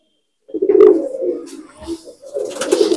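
Pigeons cooing in a loft, a few close, throaty rolling coos in short bursts with brief gaps between them.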